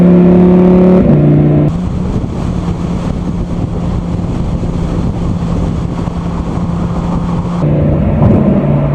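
A loud 2020 Lamborghini Huracán Evo engine with shifting pitch, dropping through gears with blips between, wind rushing throughout and no voices.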